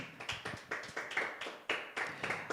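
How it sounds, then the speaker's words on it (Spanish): Rhythmic clapping at a church service, about a dozen sharp claps in a steady beat, close and fairly loud, with no voices. "Denle un fuerte aplauso al Señor"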